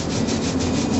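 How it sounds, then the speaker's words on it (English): A beard is scratched or rubbed right at the source, a dense, steady scraping rustle with no talking. "He's scratching his beard."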